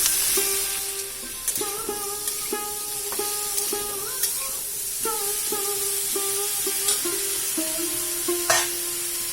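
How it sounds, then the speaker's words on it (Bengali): Eggplant pieces tossed into a pan of lightly fried potatoes sizzle steadily while a utensil scrapes and stirs in repeated strokes, with clinks against the pan close by; no talk. "এখন দিয়ে দেবো বেগুনগুলো তো এই যে বেগুন দিয়ে দিলাম"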